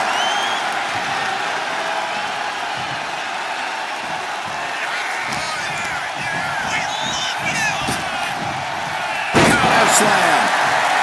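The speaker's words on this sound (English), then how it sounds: "Power slam." A wrestler slams an opponent to the mat in the WWE 2K25 wrestling game, one sharp impact near the end above a steady roar of arena crowd noise, with a commentator talking throughout.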